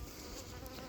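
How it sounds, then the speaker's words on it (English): Angry honey bees swarm and buzz loudly at an open hive during late-summer honey extraction, a dense, continuous insect drone close to the ear with no voices. "I've got some angry bees here"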